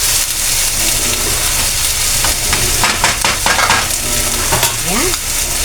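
Potatoes and chicken frying and being stirred together in a pan for tinola with malunggay, giving a loud continuous sizzle with scraping stirs and clinks midway.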